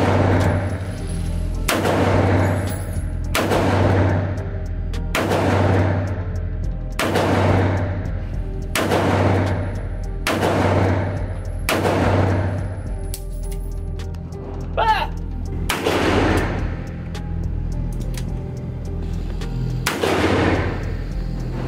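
A Smith & Wesson Performance Center 327 revolver chambered in .357 Magnum fires about ten loud, evenly spaced shots outdoors, each a heavy boom with a lingering tail, while a low steady hum runs underneath.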